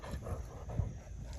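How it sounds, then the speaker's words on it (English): Dogs playing outdoors near the listener, with faint scattered yips, whimpers and panting amid soft rustling, fairly quiet and close. "the dogs are out here playing all around me, so they're about to knock me down at times"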